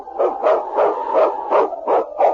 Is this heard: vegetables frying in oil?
no